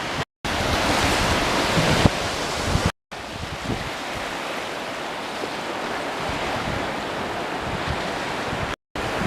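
Sea waves roll and crash steadily against rock coastal defences at the foot of eroding cliffs on the England coast between Seaham and Sunderland, a loud continuous surf roar mixed with gusty wind across the microphone.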